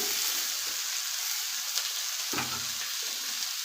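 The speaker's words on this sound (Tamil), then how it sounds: "தக்காளியும் வதக்கி வச்சுக்கலாம்" Tomatoes sautéing with onions in a pan, a continuous close sizzle with a brief stirring scrape partway through, no talking.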